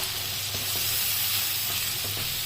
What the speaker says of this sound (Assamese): এইখিনি মই অলপ ভাজিম এতিয়া